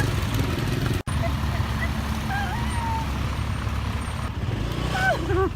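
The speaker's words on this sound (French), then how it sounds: "il faut vraiment que je vous montre la circulation en Thaïlande" Busy street traffic in Thailand rumbles continuously, with trucks and engines passing close by, occasional squeaks and beeps, and a person talking over the din.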